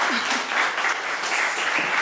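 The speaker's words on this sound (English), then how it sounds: "Applause." Loud, dense applause from a conference audience right after a talk, sustained steady clapping close and full throughout.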